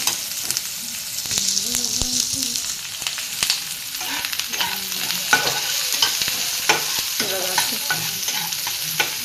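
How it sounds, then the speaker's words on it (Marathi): Sliced onions fry and sizzle in a kadai while being browned, a steady hiss with frequent spatula scrapes and stirring clatter, close and loud with no talk. "उभे चिरलेले कांदे कारण हे मसाल्यात वाटले जाणार आहे त्याच्यामुळे ह्याला चांगले लाल भाजून घेते आपण लाल होईपर्यंत परतून घ्यायचं"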